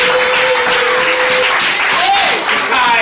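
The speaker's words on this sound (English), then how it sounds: "Clap your hands to the" Church congregation clapping loudly and steadily as a dense wash of applause, with a sung or shouted voice sliding over it partway through.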